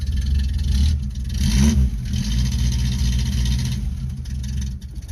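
A green car's engine running after being started, a steady mid-to-low rumble with a brief rev swell partway through, close and fairly loud with no talking.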